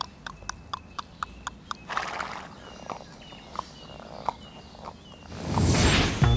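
A horse's hooves clip-clop in a quick, regular beat on the Way of Saint James in Spain, then slow to scattered steps, ending with a rushing, windy whoosh close by.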